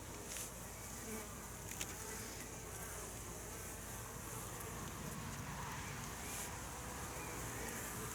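Honeybees buzz steadily at a hive in a dense, continuous drone, like a busy swarm close by, with no talking.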